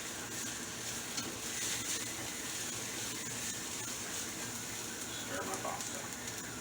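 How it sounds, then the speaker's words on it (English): Vegetables sizzling steadily in a pan as they are stirred, a continuous close frying hiss with occasional utensil scrapes and a voice speaking briefly over it. "Stir my vegetables"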